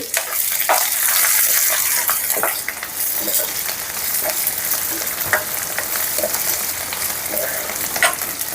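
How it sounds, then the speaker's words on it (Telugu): Curry leaves fry and crackle in hot oil in a pan while being stirred, giving a loud, continuous sizzle with scraping strokes, for a Telugu-style ridge gourd pickle. "కరివేపాకు యాడ్ చేసి బాగా కలుపుకుందాం"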